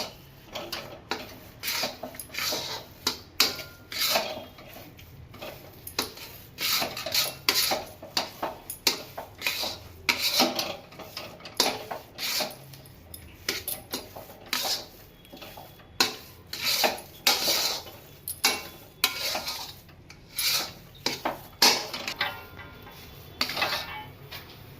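A spoon stirring ghee into kopra pak (sweet coconut fudge) in a pan, repeated scraping and clinking against the metal in an uneven rhythm, close and fairly quiet, with no talk.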